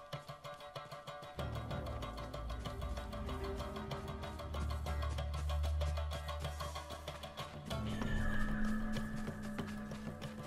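A horse in the Ghost of Tsushima video game neighs with hoofbeats, set beneath a dense layer of game music and ambience, moderately loud and continuous.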